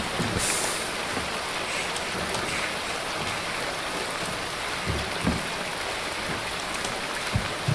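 Steady rain and rushing water fill a zombie video game scene with a dense, even hiss and scattered drops, constant and fairly loud throughout.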